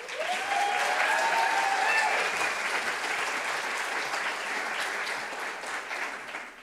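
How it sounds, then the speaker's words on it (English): An audience at a business plan competition final claps in sustained applause, a dense steady patter that holds for several seconds before tapering slightly. "Please, a round of applause."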